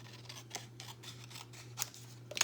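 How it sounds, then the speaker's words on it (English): Scissors snipping through punched blue paper for a fall banner craft, a quick series of soft, crisp cuts in a quiet room. "So let me cut part of it off."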